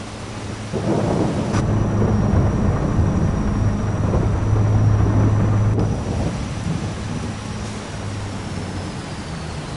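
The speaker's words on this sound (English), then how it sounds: "Drive in the rain." Thunder rolls in long, heavy rumbles over steady rainfall in Farming Simulator 22, loud and swelling through the middle before easing off, with no voices.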